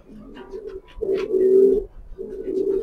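Close, steady cooing from short-tailed pencil-balance pigeons: three sustained, throaty coo phrases in a row, the middle one loudest, heard alone without speech.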